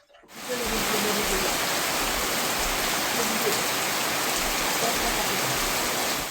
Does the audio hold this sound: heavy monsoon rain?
yes